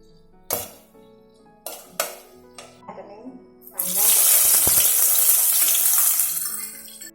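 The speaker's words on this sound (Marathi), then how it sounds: "तेल तापलं की आपल्याला हा खडा मसाला त्याला तेलात भाजून घ्यायचा आहे" Whole spices dropped into hot oil and ghee for prawn rice, a few sharp clinks and knocks first, then a sudden loud, bright hiss of frying that holds steady before fading slightly.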